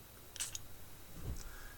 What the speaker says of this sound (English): So I'm just gonna spray a bit on.